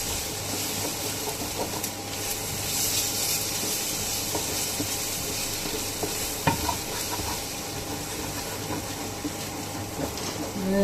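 Sausage rice sizzles and fries in a pan while a utensil stirs it, giving a continuous crackling hiss with occasional scraping knocks over a low steady hum.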